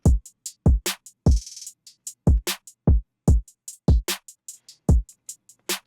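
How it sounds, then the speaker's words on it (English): Punchy FL Studio kick drum thumps in a syncopated pattern beneath snare cracks and busy hi-hat ticks, including a quick buzzing roll, loud and dry with no talking. "A kick."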